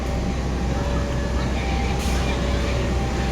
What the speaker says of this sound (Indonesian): Ini kereta api Sembrani.